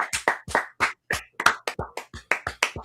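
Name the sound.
audience applause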